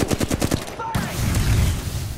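Gunfire in the video game Apex Legends: a rapid burst of automatic shots lands in a quick rhythmic string, then gives way to a lower rumbling wash of game sound.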